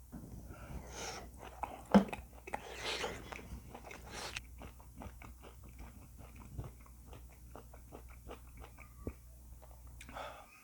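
Grilled beef sirloin is chewed close up in a quiet room, with soft wet bites and light crunches repeating at an uneven pace. One sharper bite stands out early, and the chewing then continues alone with no talk.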